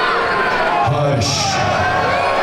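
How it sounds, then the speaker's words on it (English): A wrestling arena crowd cheers and shouts loudly and continuously, with a rising whoop partway through amid the general roar. "listen to this crowd on the case of Superior Tony Evans here"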